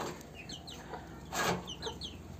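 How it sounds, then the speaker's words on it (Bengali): White and mottled Polish cap chickens, about three and a half to four months old, cluck softly in a farm pen, a few short scattered calls over steady background noise. "তারপর আরও কিছু মুরগি দেখাচ্ছি।"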